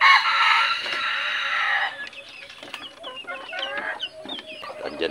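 Labuyo jungle fowl kept as domestic chickens crow loudly up close in a drawn-out call, then give a run of shorter clucks and chirps in the background.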